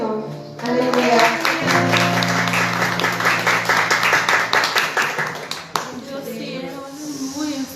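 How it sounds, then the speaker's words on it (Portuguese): During a Sunday church service a congregation claps together, hands striking in a lively, roughly rhythmic pattern over a sustained sung or spoken voice and organ-like tones, with a brief sharp knock near the end. "Aplauda o Senhor."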